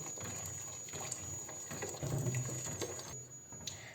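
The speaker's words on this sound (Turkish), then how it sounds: "yavaş yavaş su ilave ediyoruz." Water trickles and splashes steadily into a cooking pot of dissolving tomato paste while making chicken yüksük soup, a close, continuous pour with a slight gurgle and no talk.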